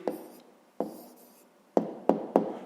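A pen scratches on paper as an answer is written down for a fifth-grade math problem, five short separate strokes, close and quiet.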